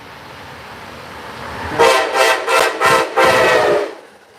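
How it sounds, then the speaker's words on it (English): An Amtrak passenger train passes on a station track during a rail strike, heard as a short run of about five loud, evenly spaced rushing bursts close by over roughly two seconds, with no talking. "there's another Amtrak and it's on track 4"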